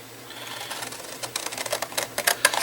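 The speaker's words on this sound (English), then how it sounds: "I'm going to cut every other one out" A cardboard box is cut apart into alternating flaps for upcycled home decor, giving a quickening series of crisp, dry snips and crunches that grow louder and closer together toward the end, with no talking.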